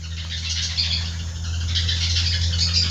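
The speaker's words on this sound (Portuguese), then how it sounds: "o fundo musical que eu tenho aqui são pássaros" Birds chirp and tweet outdoors over a steady low hum, a busy layered twitter that stays fairly constant with bursts swelling and fading.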